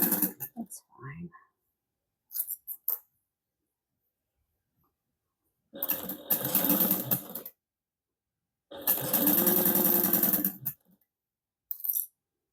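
A sewing machine (8700) sewing a holiday stocking, two steady whirring runs of about two seconds each separated by silence, with brief handling noises between.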